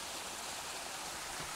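Steady, dense rush of a mountain stream flowing on a trek in Haute-Savoie, a continuous broadband wash of moving water close by, uniform in level and heard alone with no talk.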